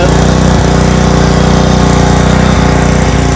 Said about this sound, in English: Letting the pressure washer run out of gas.